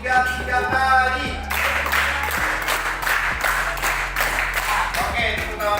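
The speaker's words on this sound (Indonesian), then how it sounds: "Tepuk 3 kali." Classroom group handclapping, a brief voice first, then a sustained wash of many hands clapping together, fairly loud and close.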